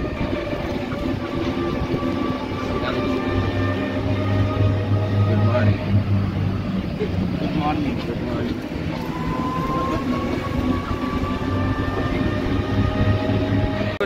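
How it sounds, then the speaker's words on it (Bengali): A passenger train rumbles steadily and loudly through Varanasi Junction railway station as the Chauri Chaura Express from Gorakhpur pulls in, with a deep low drone, sustained tonal whines and platform voices mixed in. "চলে এসেছি বারাণসী জংশন রেলওয়ে স্টেশনে।"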